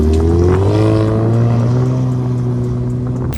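A modified Ford Mustang EcoBoost, tuned from 345 to nearly 450 horsepower, holds a loud, close engine drone with a rich, steady rumble that rises slightly in pitch and then settles into a sustained hum.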